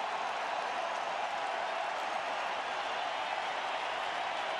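Crowd noise fills a Texas baseball stadium during an Angels game, a steady distant roar of cheering and applause with no single voice standing out.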